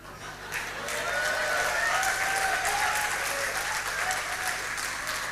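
A large audience bursts into sustained, dense applause that swells within the first second and holds steady and loud throughout, with faint voices mixed into the crowd noise.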